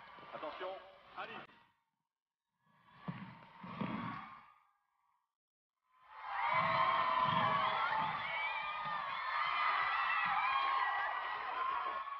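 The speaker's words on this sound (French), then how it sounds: "Un tonnerre d'applaudissements, mesdames et messieurs" A crowd at a Double Dutch jump rope competition bursts into loud, sustained cheering and applause, with whoops, after a few short bursts of voices.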